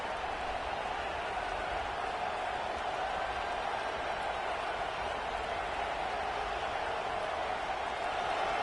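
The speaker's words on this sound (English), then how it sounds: "the crowd really making some noise now" A football stadium crowd keeps up a continuous, dense wash of cheering and noise near the goal line. The roar is steady and moderately loud throughout, with no distinct breaks.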